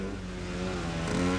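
A 1986 Fantic trials motorcycle engine drones steadily at a distance, then revs up sharply near the end in a brief rising burst.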